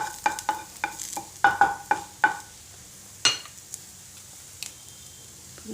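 Onion frying in a pan comes through as a faint, steady sizzle under a string of sharp spoon clicks and taps against the pan, irregular and close, with no voices.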